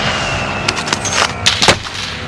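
Rapid gunshots from Call of Duty Warzone crack in short bursts over a steady background rumble of game ambience, several sharp reports clustered toward the end.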